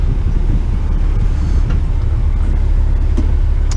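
A Kenworth T909 tipper truck hauling topsoil at an off-road dumping site produces a loud, steady diesel engine rumble with heavy low-end drone that runs continuously throughout, with no talk.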